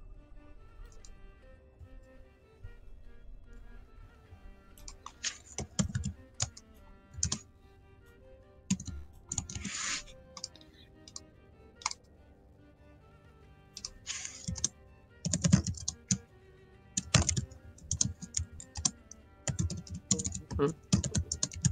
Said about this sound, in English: I hear vicious typing.